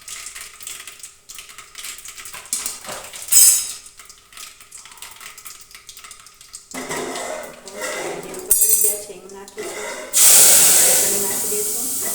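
Clinking and clattering of utensils with voices, then a sudden loud burst of sizzling hiss near the end that keeps going as spices are tempered in hot oil.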